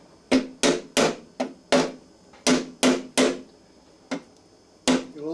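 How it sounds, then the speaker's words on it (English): A small hammer strikes an aluminium motorcycle petrol tank, producing sharp, close metallic taps that ring briefly, about ten blows in uneven clusters with short pauses in between. "Have a little hammer ready."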